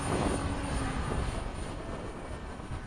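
An FMS 70mm EDF F/A-18 model jet takes off, a steady loud whooshing ducted-fan roar sustained throughout without talk.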